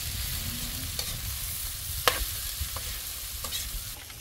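Food sautéing in a wok, a steady low sizzle with scattered sharp clicks and scrapes of a utensil stirring against the metal, close and moderately quiet throughout.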